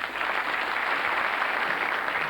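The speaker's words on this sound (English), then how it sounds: "Give him a round of applause" A studio audience at a 1999 quiz show claps in a dense, steady round of applause, loud and continuous throughout.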